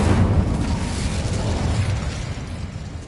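A fire spell cast in Hogwarts Legacy erupts as a loud, roaring whoosh of flame that starts strong and slowly fades over a few seconds, heard alone without talk.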